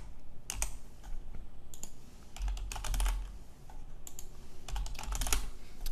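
Typing on a computer keyboard while entering text into a web form, with bursts of key clicks in quick irregular runs separated by short pauses, close and fairly clear, with no talk.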